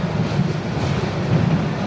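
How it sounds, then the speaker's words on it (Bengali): A long train rolls through a railway crossing, its steady low rumble and rattling wheels filling the whole stretch at close range with no break. "এই তো ট্রেন যাচ্ছে, আমরা রেল ক্রসিং এ এখন আটকাবো।"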